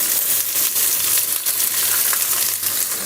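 Chopped onion sizzles loudly in oil in a pan, the start of a roasted red pepper soup: a dense, steady hiss with faint crackles and occasional stirring, close and continuous with no talking.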